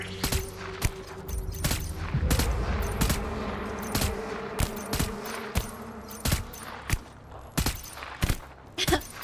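Gunshots in the video game Death Stranding ring out as a series of sharp, loud cracks at irregular intervals over steady background noise, with a voice briefly talking.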